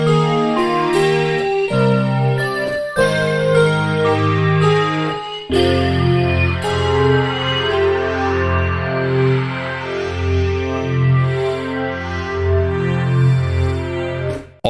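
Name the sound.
Korg Wavestation vector synthesizer evolving wave sequence sound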